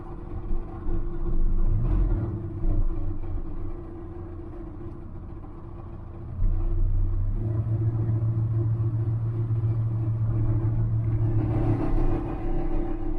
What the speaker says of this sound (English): Almost sounds like the exhaust, but I welded that thing up there good.